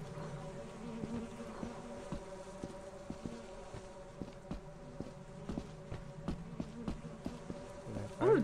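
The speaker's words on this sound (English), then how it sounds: "Oh, that's a lot of bees." Bees swarming around a beehive in the video game Lethal Company, a steady close buzzing drone with scattered footsteps and small clicks, then a brief louder bump at the end.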